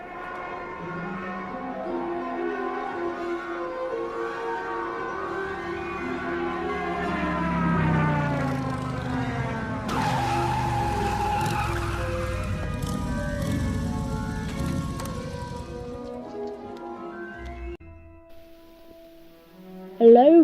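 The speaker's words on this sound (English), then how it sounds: "It swelled to a roar as they both looked up at the sky, and a huge motorbike fell out of the air" A huge motorbike roars out of the sky as a sound effect, a low rumble swelling into a loud, rising, harmonic engine whine that holds, then fades off before a sudden short thump at the end.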